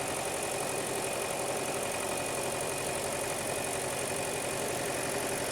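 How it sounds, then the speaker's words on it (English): A Hyundai Elantra engine idles rough and shakes, surging with a P0017 cam timing fault, giving a steady, dense mechanical drone with uneven low-end pulsing throughout, close and continuous with no voices. "the engine is shaking like crazy"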